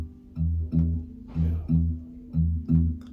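Fingerstyle blues guitar plays a swung shuffle rhythm, paired low notes bouncing in a long-short triplet feel, fairly soft and close with no talking over it.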